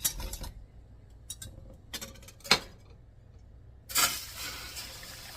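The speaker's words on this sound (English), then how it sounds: "I measured out a cup of water and put some ice cubes in it." Ice cubes clink and rattle in a cup of water, with scattered sharp chinks close by and a louder sloshing rush of water near the end.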